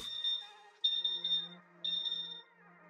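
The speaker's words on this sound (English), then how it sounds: "If you could hear it beep there just now," A water chiller for a Monport K40 40W CO2 laser sounds its alarm: three high electronic beeps, each lasting about half a second, separated by short pauses and heard close and clear.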